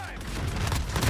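Rapid bursts of gunfire in a Modern Warfare match, a dense close volley of shots that keeps building for about a second, with no clear speech.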